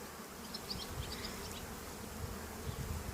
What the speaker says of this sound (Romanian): Albină, văd că mai puțină.